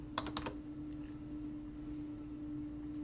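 A few quick, quiet keystrokes on a computer keyboard tap out in a short cluster, then give way to a faint, steady electrical hum.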